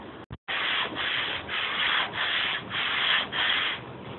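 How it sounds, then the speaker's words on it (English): A sander works over a reclaimed butcher block wooden table top, giving a loud, steady abrasive hiss in repeated strokes that swell and dip rhythmically after a brief start-up. "Still have some sanding to do on the outside."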